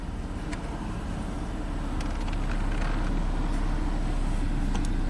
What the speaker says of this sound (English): You can hear the cooling fan come on